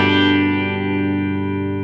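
A clean chord on a 1963 pre-CBS Fender Telecaster electric guitar through the bridge pickup, struck once and left ringing, bright and full, fading slowly with no other sounds.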